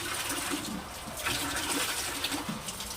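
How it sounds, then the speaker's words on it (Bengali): Water runs slowly and steadily from a fully opened tap at low pressure, a faint continuous trickle and splash with no voices. "আস্তে আস্তে জল পড়ছে। কল পুরো খোলা?"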